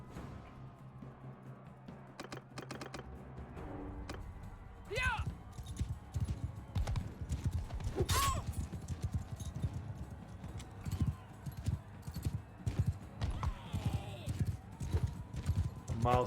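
Horse hooves gallop in the medieval combat video game Bannerlord, with a quick clip-clop rhythm mixed with clashing battle noise and occasional voices.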